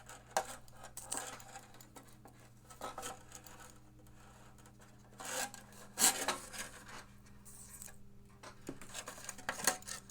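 Rasping, scraping rubs of plastic packaging as a Logitech G600 gaming mouse is worked free, with irregular crinkly bursts and small knocks, close and fairly quiet.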